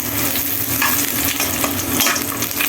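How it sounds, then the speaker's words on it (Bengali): Whole spices, garlic and dried red chillies crackle in hot oil, a dense, steady sizzle with bursts of spitting, close and loud throughout with no talking. "এই যে আমি ফোড়ন দিয়েছি আর রসুন, শুকনা মরিচ"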